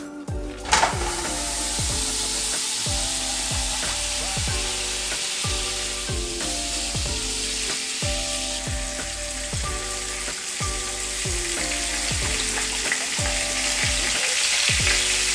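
Coconut oil and butter sizzle loudly and steadily in a hot pan, a dense close frying hiss broken by regular stirring scrapes every second or so, with no talking.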